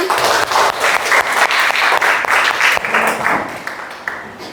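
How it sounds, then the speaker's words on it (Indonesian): A group claps together in a classroom setting, dense rapid applause at close range that stays loud for several seconds and then thins and tapers toward the end, with no talk over it. "Kita tepuk tangan dulu untuk kita semuanya"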